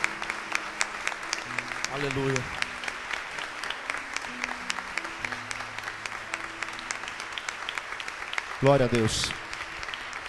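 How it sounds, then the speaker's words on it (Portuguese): A church congregation applauds during an evening worship service, steady clapping running under a voice that keeps speaking and calling out praise over the sound. "Aplauda o Senhor o mais forte que você puder"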